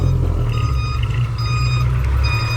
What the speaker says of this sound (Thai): โอ้คันนี้มีเกียร์ถอยด้วย ตองตองตองตองตอง